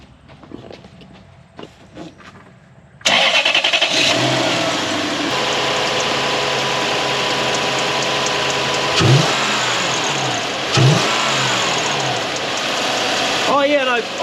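A 2013 Toyota Hilux fitted with a 3UZ V8 engine and suffering fuel pump trouble cranks and fires after a few faint clicks, settles into a steady, loud idle, then is revved twice in short, rising bursts close by.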